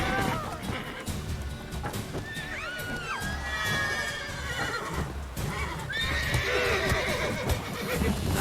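Roach, a horse in the video game The Witcher 3, neighs and whinnies loudly in two rising calls, with hoof clip-clops and game ambience underneath and someone talking partway through.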